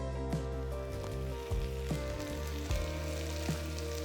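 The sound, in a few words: tomatoes and onions frying in a pan for tomato chutney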